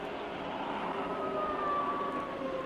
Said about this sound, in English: It's a convertible cop car with a siren.